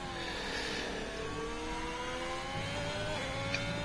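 A car engine in a racing video game at the Bahrain circuit hums and revs steadily at moderate volume, with rising pitch sweeps as it accelerates, no voices over it.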